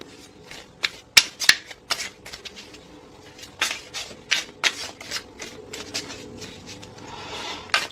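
Tarot cards shuffled by hand at close range, a string of crisp flicking riffles and sharp snaps with short pauses between bursts, fairly loud against a quiet background and no voice.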